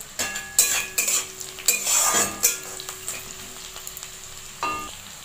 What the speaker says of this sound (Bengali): পেঁয়াজগুলো ফ্রাই করব। হ্যাঁ দেখুন ফ্রাইটা হচ্ছে।